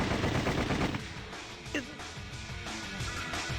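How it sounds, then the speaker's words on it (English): Video game gunfire from Sweet Fuse crackles in quick bursts, with a sharp ricochet ping cutting through midway, all set against a continuous background hum. "More bullets cracked and pinged off the walls and ceiling, tearing away parts of them."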